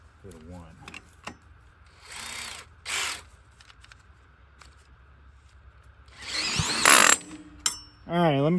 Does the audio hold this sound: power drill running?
yes